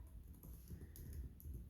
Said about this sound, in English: So I'm going to start typing that.